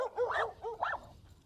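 A dog being trained on leash gives two quick, close barks with a brief whimpering edge, each short and punchy, followed by quiet.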